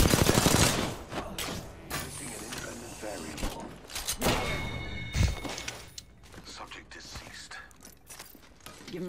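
Bursts of rapid gunfire and mechanical clicks from the video game Apex Legends, sharp and fairly loud, mixed with players talking over the shooting.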